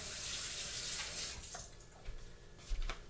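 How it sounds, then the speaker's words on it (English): Tap water runs steadily as a spatula is rinsed under it in a kitchen during banana bread baking, then the flow cuts off, leaving a few light clinks and drips. "I'm just going to rinse this spatula"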